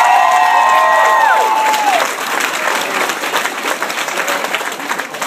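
Comedy club audience applauds and cheers loudly for the volunteers, a dense clapping crowd with a few whistles at the start, fading slightly but continuing throughout.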